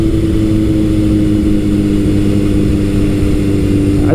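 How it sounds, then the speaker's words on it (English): 1978 Kawasaki KZ1000 motorcycle cruising at about 55 with one cylinder cutting out, a loud, steady engine drone under wind noise, close and continuous, no talk. "you can hear right now at 55,"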